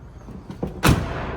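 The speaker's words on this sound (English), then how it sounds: "Boom, door closes like it's supposed to." A heavy 1980 Chevrolet K30 square body pickup truck door swings shut with a single solid thump, close by, after a few faint creaks and rustles.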